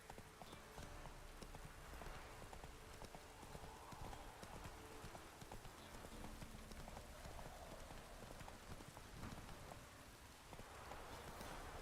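Roach, Geralt's horse in The Witcher 3, gallops through rain with a rapid, steady clip-clop of hooves over falling rain, close and continuous for the whole stretch.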